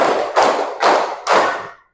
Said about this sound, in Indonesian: Tepuk takbir